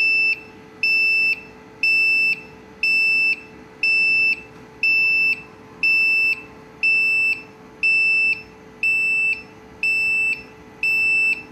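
An inverter's low-battery alarm beeping during a LiFePO4 battery drain test, in a steady rhythm, about a dozen loud high-pitched double-toned beeps under a constant electrical hum.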